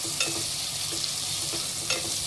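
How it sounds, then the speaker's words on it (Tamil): Onions and cashews sauté for ghee rice with a continuous close sizzle and a few soft stirring scrapes, and no one speaks. "வெங்காயம் நல்லா வதங்கணும், கலர் மாறணும்"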